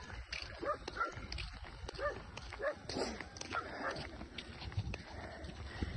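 Several dogs bark in short, irregular bursts, fairly close, mixed with footsteps and a person speaking softly in the background.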